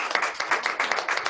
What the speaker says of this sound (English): these two distinguished presenters deserve a round of applause